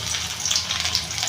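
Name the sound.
ginger and garlic paste frying in gravy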